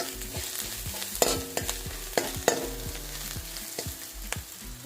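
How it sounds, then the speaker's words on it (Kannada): Onions frying with turmeric in a pan sizzle softly while a spatula scrapes and clinks against the metal in irregular strokes, several sharper knocks standing out close by. "ಚೆನ್ನಾಗಿ ಫ್ರೈ ಮಾಡೋಣ. ಈರುಳ್ಳಿ ಫ್ರೈ ಆಗಿದೆ, ಸ್ವಲ್ಪ ಅರಿಶಿನ ಸೇರಿಸ್ತಾ ಇದ್ದೀನಿ."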